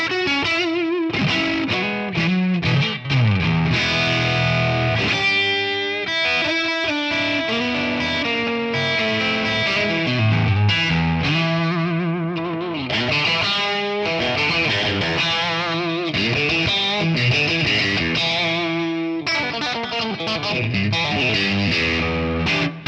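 Electric Strat guitar played through a ToneX amp capture on a bright drive setting with reverb, a continuous distorted passage of chords and melodic lines, loud and up front with no talking.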